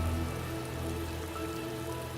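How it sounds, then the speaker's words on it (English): A steady rain downpour in a video game, a dense, even hiss of drops on surfaces, faint and continuous, with a low rumble underneath and no voices. "a sudden downpour soaked my shoulders"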